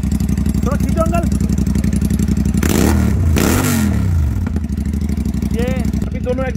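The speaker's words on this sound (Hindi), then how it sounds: "इसकी आवाज़ सुनाएंगे बिना एग्जॉस्ट के। दोनों एग्जॉस्ट निकाल रखे हैं।" A motorcycle with both exhausts removed revs hard and loud up close, with two sharp throttle blips swelling and falling over a raw, rattling idle.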